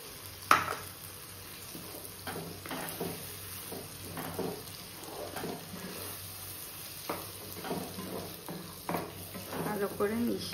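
Homemade yogurt being stirred into cooked-down masala in a pan, with scraping spoon strokes and soft clinks over a faint sizzle, close and fairly quiet, a voice talking now and then.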